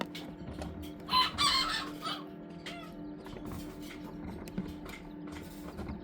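Young pheasant-chicken and silkie chicks peeping and clucking close by, with a brief louder burst of calls amid steady background chirping and faint mechanical hum.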